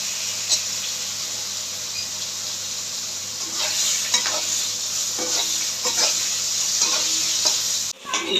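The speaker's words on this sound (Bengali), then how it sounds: "এবার এই তেলের মধ্যে বেগুনটা ভাজছি।" Eggplant frying in hot oil in a pan, a steady bright sizzle with intermittent stirring scrapes and clicks, close and continuous, no voices.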